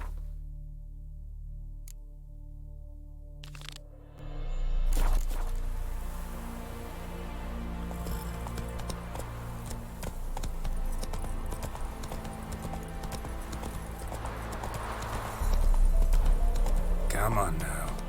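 The horse Roach gallops in The Witcher 3, rhythmic hoofbeats clopping steadily under game music, with someone talking over part of it.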